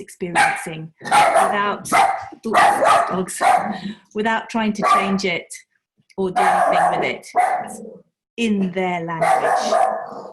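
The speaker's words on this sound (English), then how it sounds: "I'll mute myself now with the dogs." Several dogs barking in the background at home during an online panel discussion, intermittent yaps and barks mostly buried under continuous close talking.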